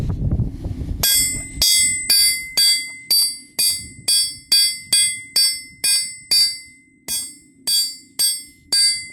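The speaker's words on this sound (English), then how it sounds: "I'm just trying to see if I can beat it up flat somewhat." Hand hammer flattening metal heated in a rocket stove forge: about sixteen loud, close, evenly spaced ringing blows on an anvil, preceded by a brief low rumble.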